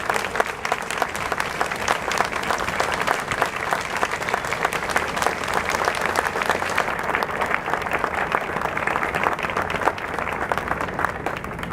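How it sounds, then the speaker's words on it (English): A large crowd at a Houston Veterans Day ceremony applauds veterans standing in their honor, steady dense clapping sustained for about twelve seconds at an even level. "Let's give them a round of applause again for serving their country."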